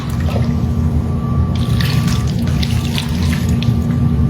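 Beef broth pours in a steady, continuous stream into a pot, a close liquid splash and trickle lasting several seconds with a low hum beneath and no talking.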